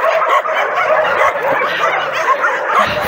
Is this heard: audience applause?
no